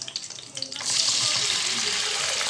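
Chopped large onions drop into hot oil for mutton kurma, and a quiet scraping suddenly swells into a loud, continuous sizzle that holds steady.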